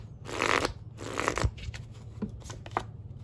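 Tarot cards riffle and slide against one another in close, crisp bursts, followed by a few soft flicks and taps as single cards are drawn and laid down, with no talking.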